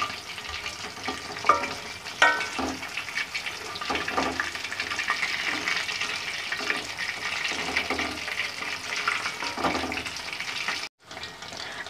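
Chicken pieces deep-frying in hot oil for KFC-style spicy chicken fry, a steady bubbling sizzle with occasional clinks and stirs, close and continuous for about eleven seconds before cutting off.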